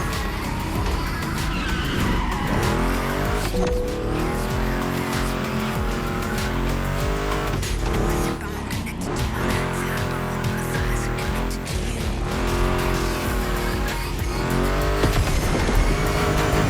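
Ford Mustang GT muscle car racing in The Crew Motor Fest video game, engine roaring loudly and continuously with rising and falling revs and tire squeal through turns, with no talk over it.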